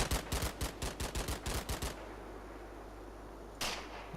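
A rapid burst of about a dozen gunshots rings out in Combat Mission: Battle for Normandy, evenly spaced sharp cracks, followed by quiet and one more distant shot.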